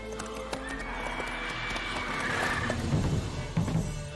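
Roach, the horse in The Witcher 3, galloping with rhythmic hoofbeats and letting out a loud whinny near the end, close and clear, with faint voices in the game underneath.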